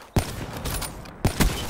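Quick bursts of gunfire in the video game Call of Duty: Black Ops III crack in pairs, loud and close, separated by brief pauses with a steady background hum.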